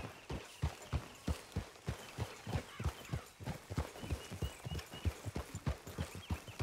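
Horse hooves clip-clop steadily in a walking rhythm in Red Dead Redemption 2, close and fairly loud, with a faint whinny-like touch and no talk over the beats.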